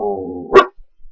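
Dog gives a single loud close bark after a brief whine, followed by faint quiet sounds.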